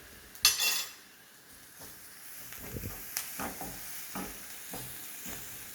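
Onions and spices fry in a kadai as turmeric goes in, starting with a sharp metallic clink, then a low, steady sizzle with light, scattered taps and stirring scrapes.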